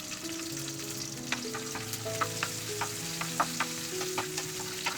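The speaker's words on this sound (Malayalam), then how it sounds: "അതിനുശേഷം അതിലേക്ക് വെളുത്തുള്ളിയും ഇഞ്ചിയും ചേർത്ത് വഴറ്റുക" Garlic, ginger and curry leaves sauté in a pan for chicken stew, a steady close sizzle with scattered crackles and pops, with a faint steady tonal hum behind and no talking.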